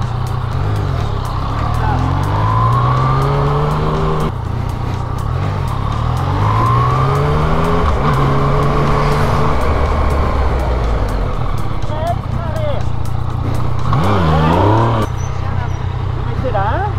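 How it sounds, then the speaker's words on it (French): A Yamaha MT-09 motorcycle during motorcycle licence training, its engine revving and pulling away repeatedly with rising pitch sweeps, loud and close, while voices talk over it. "Tu débrayes la moto, tu prends le frein arrière et t'envoies."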